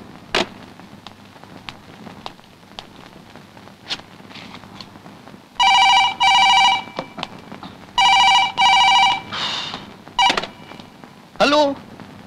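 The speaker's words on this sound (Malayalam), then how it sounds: "ശരിക്കുള്ള നമ്പർ ഡയൽ ചെയ്തു." A telephone ringing after a number is dialed, sounding in loud repeated bursts of electronic trilling in pairs, with short thuds and brief voice-like noises between the rings.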